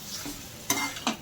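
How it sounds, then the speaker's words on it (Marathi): Smashed boiled potato stuffing for a veg frankie is stirred with spices in a pan, giving soft scraping swishes with two sharper spoon knocks, close and quiet. "उकडलेले स्मॅश केलेले बटाटे, फ्रँकीसाठी लागणारं स्टफिंग एकजीव करून घेऊ"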